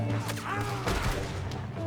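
Rapid bursts of gunfire in Red Dead Redemption crackle and thump through a dense, noisy mix, with sharp impacts spread across the clip.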